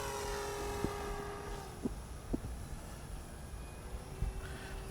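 Eclipson Model Y radio-controlled plane in flight with a propeller, a steady whining drone heard from a distance and fairly faint against outdoor ambience, with a few light knocks.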